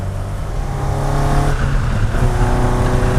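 An Alfa Romeo GT Junior engine revs hard and close, its rich rumble swelling and crackling loudly and steadily throughout.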